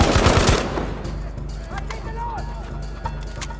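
KE7 machine gun in Battlefield V firing a rapid, loud burst at the start, followed by steady rhythmic thumps and faint distant gunfire, with someone talking over it.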